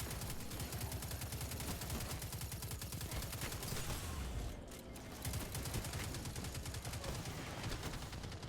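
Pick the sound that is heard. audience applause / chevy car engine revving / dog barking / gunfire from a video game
gunfire from a video game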